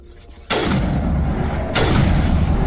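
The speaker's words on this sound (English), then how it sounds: "I'm shooting power junctions and I don't know why." Weapon fire at power junctions in Mass Effect 1 Remaster: two heavy booming shots, the first at about half a second and the second about a second later, each followed by a sustained, loud rumble, with no talking.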